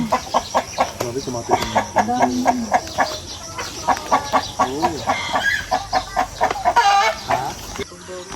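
Chickens cluck repeatedly and loudly up close in a coop where eggs are kept, with a rooster crowing among them and people talking over the steady, busy flock noise.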